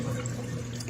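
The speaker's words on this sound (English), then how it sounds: "you still have all the water pressure coming through. So that's coming out hard and fast" Water gushes hard and fast from the drain hose of an Auertech twin tub portable washing machine, a steady close splashing rush with no talk.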